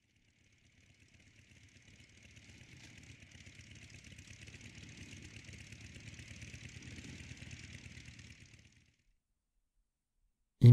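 A smoky motorcycle idles steadily in a World of Warcraft scene, a low rumbling engine fading in, holding for several seconds, then cutting off abruptly with no talk over it.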